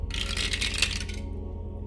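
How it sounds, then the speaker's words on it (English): A small three-sided die is rolled and clatters briefly on a hard surface, one quick bright rattle that settles within a second, close and alone with no voices. "Let's go ahead and roll let's do the 3-sided dice."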